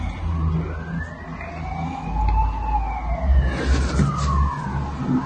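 An ambulance siren wails in slow rising and falling sweeps, moderately distant, over street traffic rumble with a brief clatter near the end.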